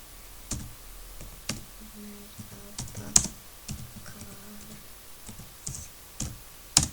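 Keys clack on a computer keyboard as a short message is typed in bursts of close, crisp taps, with a few louder strokes standing out and no talking over it.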